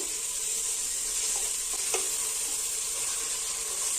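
Mushroom biryani masala with coriander sizzles and fries steadily in a pan, with a few light clinks of a stirring spoon partway through.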